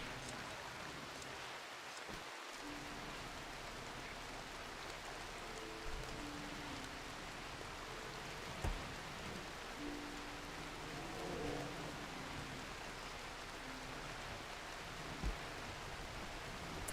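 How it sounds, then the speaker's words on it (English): Light in-game rain in the colony game RimWorld, a steady soft hiss of falling drops that runs through the whole stretch alone at low level, with a few faint thumps. "Yeah, it is in-game. There's a little bit of rain happening."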